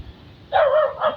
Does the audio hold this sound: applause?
no